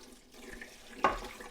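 Water poured from a tap into a pressure canner with turkey breast for canning, a soft steady running flow that surges louder partway through, close and alone without talk.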